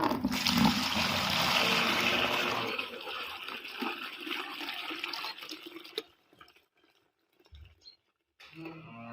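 Cow's milk poured from a pail into a measuring container on a farm, a loud steady liquid rush that slows into sparse drips and trickles after several seconds.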